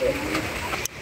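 A pigeon coos softly inside a pigeon house, a single brief low call heard close by over a quiet background.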